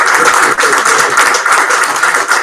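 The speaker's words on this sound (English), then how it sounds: "Applause." Audience at a February 2016 meeting applauding, a dense steady patter of many hands clapping continuously.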